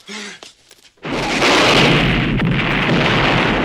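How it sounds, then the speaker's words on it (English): A rocket launcher blast in the 1982 action film First Blood: a brief muffled voice, then a sudden loud, deep explosion that rumbles on with crackling debris for several seconds. "Who's got the rocket launcher?"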